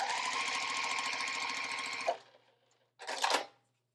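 A sewing machine stitches quilt fabric in a fast, even rhythm for about two seconds, stops, then makes a short second burst. Quiet pauses follow.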